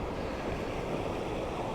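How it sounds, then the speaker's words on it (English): Gentle waves lap at the shore at night near Moss Landing in a soft, continuous wash, with light wind noise and no voices. "The waves are very gentle and lapping at the shore."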